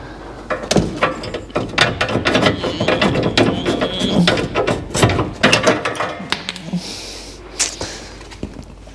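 Ratchet socket wrench working on a BMW 220i during a repair: close, loud bursts of rapid clicking come in irregular spurts, mixed with metallic knocks and clanks.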